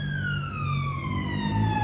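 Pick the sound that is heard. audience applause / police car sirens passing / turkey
police car sirens passing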